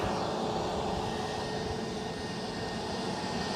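An Airbus A320neo jet at Edinburgh Airport gives off a steady, broad engine roar that holds at an even loudness throughout, with no talk over it.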